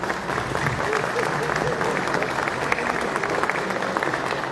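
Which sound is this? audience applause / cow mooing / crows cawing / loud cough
audience applause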